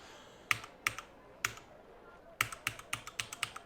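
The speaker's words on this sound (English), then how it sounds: "And I've pressed every button on my keyboard so far and nothing's happening." Keys on a computer keyboard clack close and crisp, first a few spaced presses, then a rapid run of about eight quick taps in an irregular rhythm, against a quiet background.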